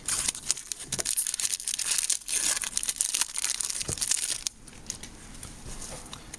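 A Magic: The Gathering Dragons of Tarkir booster pack wrapper torn open and crinkled close up, dense crackling foil rustle for several seconds before easing to lighter handling; no talking.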